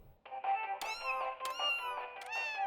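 Cartoon cat from The Powerpuff Girls giving a series of loud, close, rising meows that follow one another across the clip, with no talk over them.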